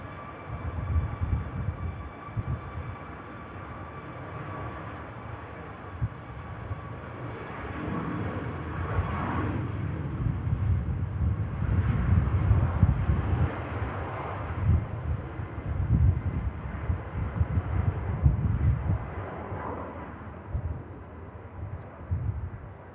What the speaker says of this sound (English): Lovely takeoff there.